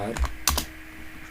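Keys clatter on a computer keyboard as text is typed into accounting software, a few quick close clicks with a short burst in the middle, heard over faint background talk.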